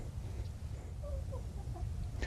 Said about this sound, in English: You expect the chickens to come rushing out